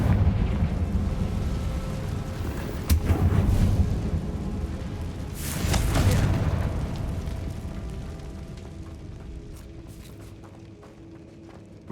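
Confringo fire spell explosions in Hogwarts Legacy on PS5, with a sharp blast near three seconds and a larger rumbling burst around six seconds over steady game ambience, then fading.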